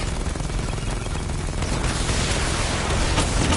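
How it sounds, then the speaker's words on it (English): A Batmobile missile barrage from Batman Arkham Knight unleashes a dense, continuous volley of rapid blasts and booms, loud and close, with the impacts swelling slightly toward the end. "Missile barrage level 2 ready."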